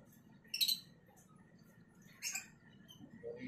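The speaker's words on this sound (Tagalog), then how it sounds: "meron na tayong ibon" A bird gives a few faint, high chirps in two short bursts, heard alone against a quiet outdoor background.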